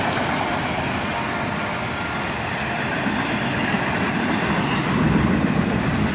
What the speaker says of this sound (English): another ES40 DC leading this auto-rack train